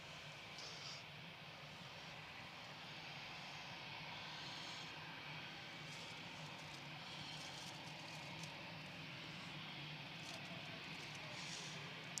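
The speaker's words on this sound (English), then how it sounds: "KLM 1031 from Amsterdam, 737-800 PHBXN, just coming over the threshold now." A KLM Boeing 737-800 jet from Amsterdam crosses the runway threshold on landing at Manchester Airport, its engines a faint, steady distant rumble with a soft hiss that persists without change.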